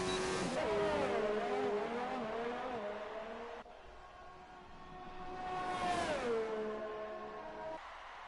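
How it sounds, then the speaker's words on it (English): Formula 1 car engine in F1 2019 on a timed lap, a loud steady high-pitched whine that climbs and drops through gear changes and braking, with no voices over it. "Lando Norris coming to the start finish line now. He's starting a timed lap."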